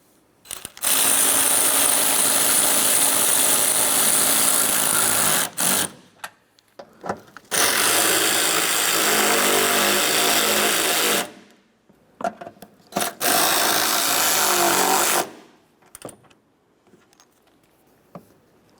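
A power tool snugs up the bolts on a washer bottle in a 2001–2005 Ford. It comes as three long, loud whirring bursts, each followed by a short pause with faint clinks.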